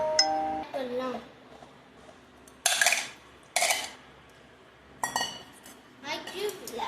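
A glass is picked up and set down while a mango thandai drink is being prepared in a kitchen, giving several bright clinks and taps spaced across the moment, with faint talk in the background.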